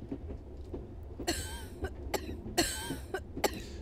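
A woman character in the video game Re:Turn - One Way Trip has a harsh coughing fit, several rough bursts in quick succession, close and fairly loud, with no talk over them.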